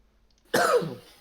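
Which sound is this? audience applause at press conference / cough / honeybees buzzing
cough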